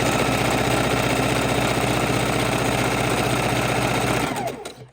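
A sewing machine stitches a raw edge appliqué Halloween pumpkin in orange fabric with a rapid, steady mechanical whir close by, running evenly for several seconds before stopping abruptly.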